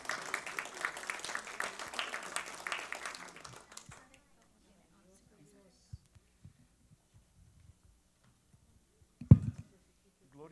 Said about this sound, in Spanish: un aplauso para el pastor, nuestro maestro, Abelino Méndez